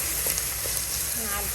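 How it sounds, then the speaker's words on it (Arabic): Tripe fries with onions in a pan for an Oran-style dish, a dense, steady close sizzle with faint soft bubbling pops throughout and no stirring clatter. "نخلوها تتقلى حتى يذوب هذاك البصل معانا"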